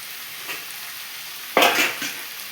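Chanchala leaf curry fries in a pan with a steady, soft sizzle, broken by one loud, close scrape-and-stir burst followed by a brief rustle as the leaves are turned.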